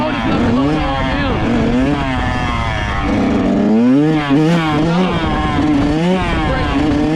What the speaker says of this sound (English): I rev it up. hit my brake to slow it down.